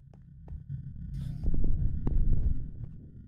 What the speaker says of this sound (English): All you get is the weird, creepy heartbeat sound.